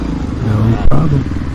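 1993 Honda XR600R motorcycle engine running during a cross-country race, a loud, close, droning thump with a brief rise in pitch as it accelerates, over about a second and a half.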